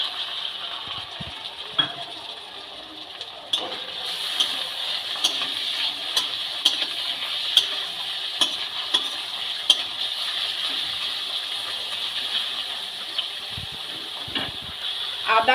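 Small chicken pieces and chopped onion frying in a pan for chicken chow mein, a continuous sizzle broken by regular crisp clicks and scrapes of stirring, with a voice talking faintly over it at times.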